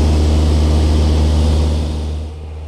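A small propeller plane drones loudly and steadily from inside the cabin while flying over a marina in Florida, with a deep hum that eases slightly near the end.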